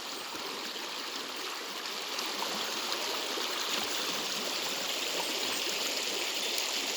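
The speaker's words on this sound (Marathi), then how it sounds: "हे पहा एवढं पाणी आहे अजून नदीला" Steady broadband rush of river water flowing continuously, close and fairly loud, with no voices.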